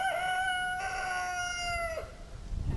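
Roosters on a homestead crow in a long drawn-out call that fades off, followed by a second overlapping crow, fairly close, over steady breezy outdoor background noise.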